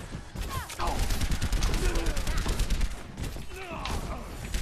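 Soldier 76's rifle in Overwatch firing in rapid bursts during a match, loud and close, mixed with impacts and chaotic battle noise.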